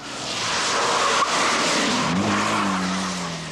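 During evasive driving training, a car's tires squeal in a loud, sustained skid over engine roar, the screech sliding in pitch before fading out.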